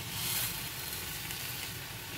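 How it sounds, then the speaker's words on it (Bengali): Fried vermicelli tipped into a hot pan of sauce, vinegar and tomato ketchup brings a steady, close hissing sizzle that runs unbroken throughout, with no talk. "এবার ভেজে রাখা সিমুইটা ঢেলে দেবো।"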